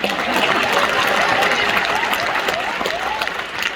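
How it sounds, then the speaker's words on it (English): An audience at a live cooking trivia show breaks into applause, a full burst of clapping with some crowd noise that holds steady and then eases slightly toward the end. "You are stingy with the clapping."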